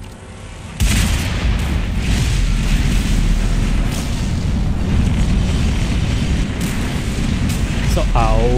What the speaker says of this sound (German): Hier eine Mega-Explosion